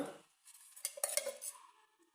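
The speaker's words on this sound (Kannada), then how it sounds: "ನೋಡಿ ನಾಲ್ಕು ಬೌಲ್ ಮಂಡಕ್ಕಿ ಸೇರಿಸಿದ್ದೀನಿ ಈಗ ಚೆನ್ನಾಗಿ ಮಿಕ್ಸ್ ಮಾಡ್ಕೊಳ್ಳೋಣ" Four bowls of puffed rice (mandakki) being mixed with a spoonful or two of ghee in a pan, giving a soft dry rustle with a few brief utensil clinks near the middle, close and fairly quiet, no talking.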